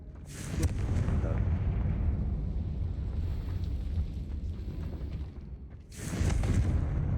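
A Confringo blasting spell in the Hogwarts Legacy video game, sharp bursts near the start and again near the end over a continuous low rumble, with a faint voice underneath.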